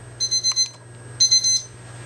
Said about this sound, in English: Put your timer on for 15 minutes.